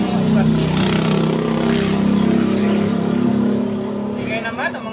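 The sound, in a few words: motorcycle engine noise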